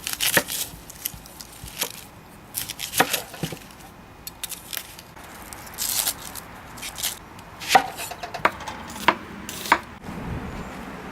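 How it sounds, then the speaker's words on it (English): Onions being chopped for a cheeseburger topping: sharp, irregular knife strikes against a cutting board, close and fairly crisp, arriving in short bursts with brief pauses, no talking. "So I've got these onions chopped up."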